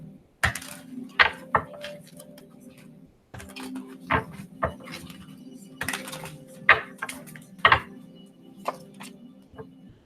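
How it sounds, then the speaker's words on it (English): A new deck of cards is shuffled in short bursts of riffling and tapping, with sharp clicks and flutters against a low background hum. "I have a new deck, you all, so bear with me as I try to do this shuffling"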